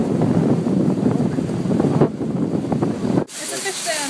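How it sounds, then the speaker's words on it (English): Outdoor wind buffets the microphone on a Florida day, making a loud, steady, roaring rumble that suddenly drops and changes character near the end. "It's a wind day, baby!"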